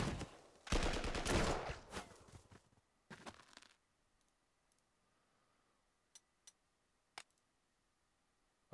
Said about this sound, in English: But let's attack with this second artillery.